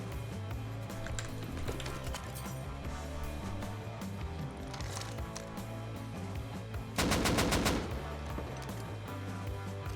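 Gunfire in the Rust video game during a clan fight, a heavy M2 machine gun firing from a rooftop; a busy mix of shots with a loud rapid burst near the end.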